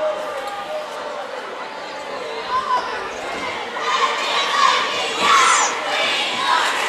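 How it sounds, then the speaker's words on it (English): Student cheer block shouting at a high school boys' basketball game, a loud sustained crowd roar with rising bursts of yelling and cheering echoing through a gym, plus occasional ball bounces underneath. "the Valley cheer block obviously expressing their thoughts."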